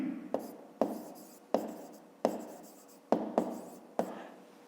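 A pen writes on paper close by, a series of sharp scratchy strokes with pauses, several quick taps and longer drags in an uneven rhythm, with no one talking.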